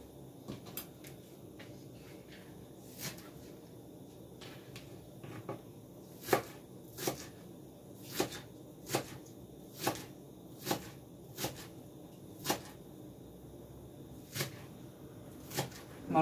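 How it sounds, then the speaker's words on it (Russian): A knife chopping an onion on a board in sharp, separate strikes, spaced unevenly then settling into a steady rhythm, close and fairly quiet. "Лучок сейчас покромсаю."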